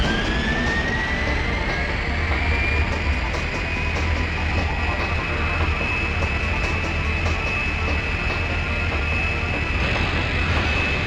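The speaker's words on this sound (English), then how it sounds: "maybe I have to interact with the jet" Jet aircraft engine in the 007 Tomorrow Never Dies video game, a loud, continuous roaring whine with a rising high-pitched tone that settles and holds steady the whole time, with no voices.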